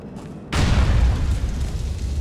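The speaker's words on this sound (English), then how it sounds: "take one of these grenades and put it through their window" A grenade blast in GTA IV: The Lost and Damned goes off as a sudden loud boom after half a second of quiet game ambience, followed by a sustained rumbling roar.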